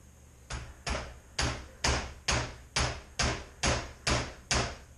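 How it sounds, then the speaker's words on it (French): A hammer taps lightly on a part of an HPI Apache RC model to leave an imprint. About ten sharp, evenly spaced knocks land close by with no talking. "Tu tapes un petit peu au marteau, histoire de créer une empreinte."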